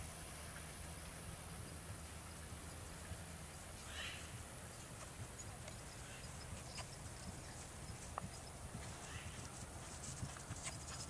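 A pony canters around an arena, its hooves giving a faint, rhythmic clip-clop on the footing throughout, with quiet background noise and occasional soft sounds.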